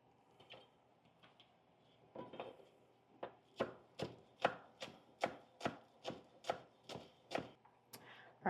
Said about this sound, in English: Chop a few more of these real quick.